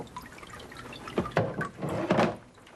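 Water sloshes and drips in a few quick bursts as a papermaking mold is shaken in a vat of pulp, close and fairly soft, with quiet dripping before and after.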